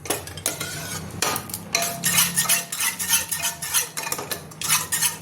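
Boiled dal lentils are stirred in a metal pot, with a spoon scraping and clinking against the sides in loud, repeated strokes and a wet, sloshing churn, no voices.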